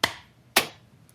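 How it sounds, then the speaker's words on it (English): Two sharp, separate claps ring out about half a second apart in a quiet room, crisp and close with brief decay, as a small group tries to clap together on a countdown. "Let's clap."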